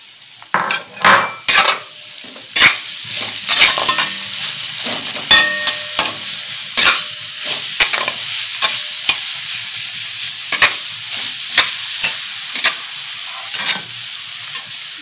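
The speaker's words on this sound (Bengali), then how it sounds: "দেখো 2 মিনিট ভাজার পরে আমি এই পেঁয়াজগুলো এর মধ্যে দিয়ে দিচ্ছি।" Onions sizzle loudly in hot oil while a utensil repeatedly scrapes and clinks against the pan in irregular stirring strokes.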